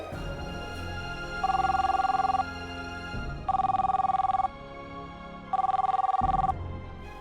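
A telephone rings three times in a steady electronic pattern, loud and close, over a constant low background hum.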